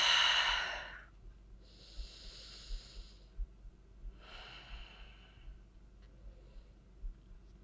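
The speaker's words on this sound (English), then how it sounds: "Just take a few breaths." Slow, audible breaths during a seated yoga twist: a long exhale, then two soft airy breaths a second or so apart, faint and close in a quiet room.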